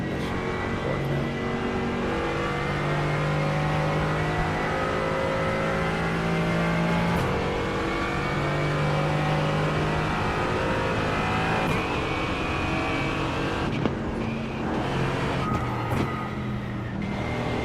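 A continuous, loud race car engine in iRacing hums and whines at steady pitch, with shifting tones and brief revving changes near the end, sounding synthetic and game-like, at the Nürburgring endurance race.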